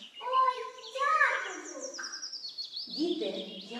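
A small bird chirps in a Ukrainian children's fairy tale, giving a few bright, high tweets and twittering calls up close, with a light, childlike voice-like tone mixed in.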